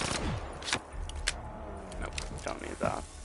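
Gunfire from a weak gun in a video game: several sharp single shots scattered across a few seconds, with a person talking in between.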